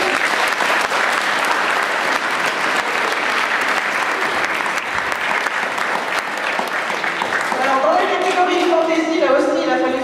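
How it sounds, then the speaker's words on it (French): Audience at a French prize-giving ceremony applauds loudly and steadily for a prize winner, dense sustained clapping throughout, with a voice speaking over it near the end. "On l'applaudit bien."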